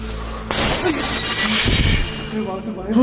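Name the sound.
glass shattering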